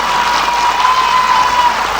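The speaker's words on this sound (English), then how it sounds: "you should acknowledge the hard work of all the teachers with a very big clap" A school annual day audience claps and cheers for the teachers, producing a steady wash of crowd noise with no individual claps standing out.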